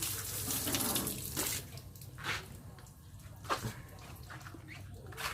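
A water tap runs during a car wash, a broad steady hiss of flowing water close by that thins out partway through, with a few splashes and faint background sounds.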